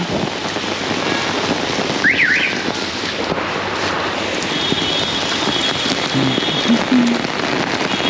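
Heavy rain pouring down in Bengaluru, a steady dense hiss of drops on surfaces lasting throughout, with faint wind and a few brief distant chirps or tones over the downpour.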